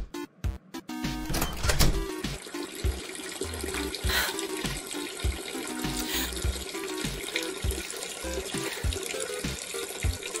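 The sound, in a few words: toilet flushing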